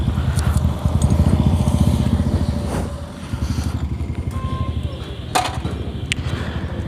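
A Yamaha R15 V3 sport motorcycle idles and revs nearby with a steady, throbbing engine pulse. Scattered clicks and handling noises sound over it, and no one speaks.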